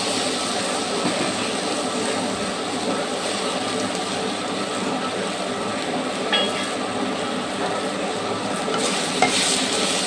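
Peanuts frying and being stirred in a pan for a ridge gourd peanut chutney, giving a steady close sizzle with scraping stir sounds throughout and no talking.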